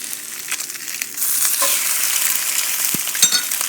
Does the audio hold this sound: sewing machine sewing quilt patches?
no